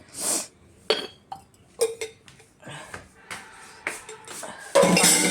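Glasses clink and knock together in a sink, in scattered bursts with water splashing, ending in a louder rush of running water.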